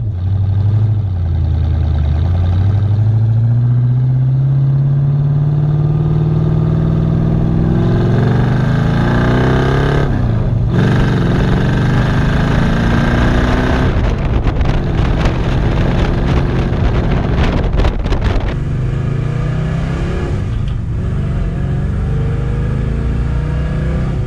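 An old Ford Thunderbird engine cranks, catches and idles loudly up close, then revs several times with a rough, rumbling exhaust note.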